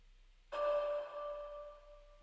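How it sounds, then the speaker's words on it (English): A single chime from the round bell in the Fantasy Grounds tabletop game software rings out clearly and then sustains with a long, slowly fading tone, with no voices over it. "So there's the bell, the round sound."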